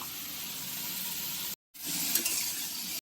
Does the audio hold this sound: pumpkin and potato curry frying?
yes